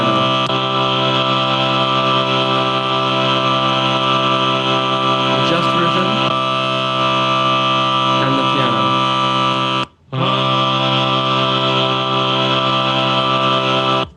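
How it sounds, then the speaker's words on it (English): An equal-tempered chord on a piano holds as a steady, loud, sustained tone, cut off briefly and then sounded again for a few more seconds. "and then the one on the piano"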